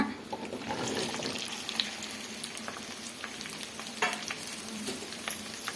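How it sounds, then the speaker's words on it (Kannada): Okra fries in a couple of spoons of hot oil in a pan, giving a steady, fairly quiet sizzle with scattered crackles and occasional stirring scrapes close by. "ಈಗ ಆಯಿಲ್ ಬಿಸಿ ಆಗಿದೆ ಬೆಂಡೆಕಾಯಿ ಹುರ್ಕೊಳ್ಳೋಣ"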